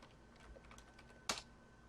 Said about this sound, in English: and type the password